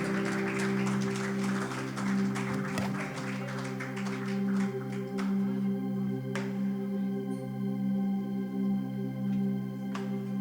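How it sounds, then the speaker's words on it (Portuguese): A church congregation claps together over sustained organ or keyboard tones, the applause loud at first, then thinning into scattered claps as the held chords continue. "dê uma salva de palmas para Cristo"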